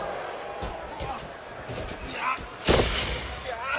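A sharp open-hand chop strike lands in a wrestling ring amid a constant arena crowd din, with one loud slap standing out near the end and softer thuds before it.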